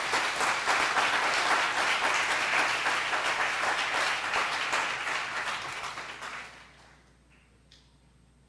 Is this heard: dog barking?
no